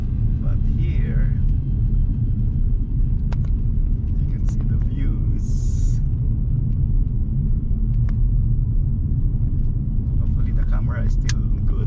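Steady low road rumble from a car driving along a road in Great Basin National Park, a continuous engine and tire drone filling the whole stretch, with a few faint higher noises above it.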